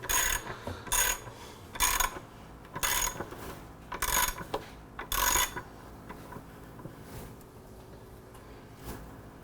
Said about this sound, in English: And then we'll loosen our axle.